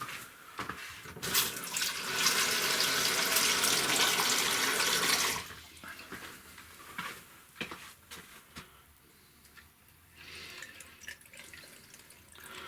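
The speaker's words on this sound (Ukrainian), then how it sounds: "Заливаємо воду так, щоб вода покрила наші помідори." Water pouring from a tap into a jar of fermenting green tomatoes, a loud rushing stream for a few seconds that stops abruptly, followed by quieter drips and sloshing.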